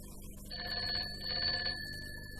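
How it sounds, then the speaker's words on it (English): A telephone rings with a bright, trilling electronic bell, one long burst in the middle over a low background hum, then stops. "The number is ringing all right."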